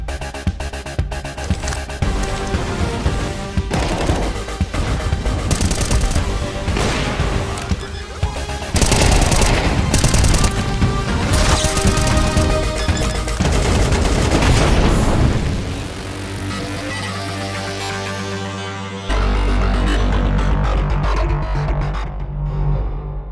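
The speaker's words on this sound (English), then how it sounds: "Counter-Strike is known for its visceral and satisfying gunplay" Counter-Strike 2 gameplay gunfire: loud rapid automatic bursts and single shots crackle in quick succession with booming impacts, ending in a low sustained rumble.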